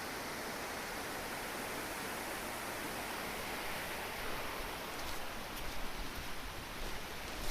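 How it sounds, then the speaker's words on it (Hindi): A natural waterfall spilling from rocks in a mountain forest, a steady broadband rushing hiss that continues evenly, with slight surges toward the end and no speech. "देखिए कितना सुंदर प्राकृतिक झरना चट्टानों से निकल रहा है"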